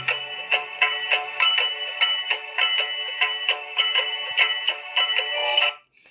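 A devotional aarti tune plays as tinny electronic notes from a talking book's small speaker, repeating in a steady rhythmic pattern before cutting off abruptly.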